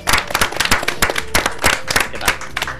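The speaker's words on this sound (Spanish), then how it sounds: "Bueno, un aplauso para él, ¿no?" A small studio audience applauds a guest on a talk show, giving close, loud, somewhat uneven rhythmic claps in quick succession for a few seconds without speech.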